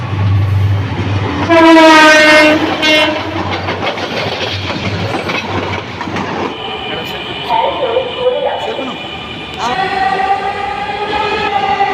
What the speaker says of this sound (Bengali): এই তো ভিউয়ার্স ট্রেন এসে পড়েছে।